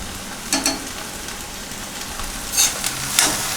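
Onions and green chillies added to okra frying in a pan for a Kerala vendakka roast: a steady soft sizzle with a few brief louder hisses and stirring scrapes, no talking.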